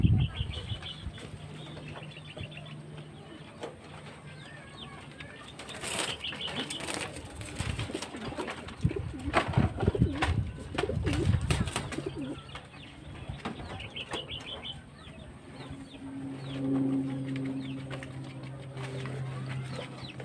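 Barless pigeons coo repeatedly in soft, low, throaty phrases close by, with occasional wing flutters and faint background sounds throughout.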